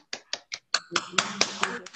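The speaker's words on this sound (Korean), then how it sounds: "자축의 박수 한번 보내드릴까요?" A few scattered hand claps from people at a large Zoom seminar, sparse and separate at first, then quicker and overlapping into a thin patter, close and moderately loud.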